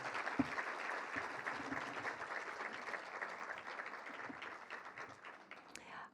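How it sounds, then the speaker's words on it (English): A crowd claps for Princess Lisette at the announcement of the 106th Rose Queen, sustained applause from many hands, fairly quiet and distant, continuing evenly with a few sharper claps standing out near the start. "Another round of applause for Princess Lisette"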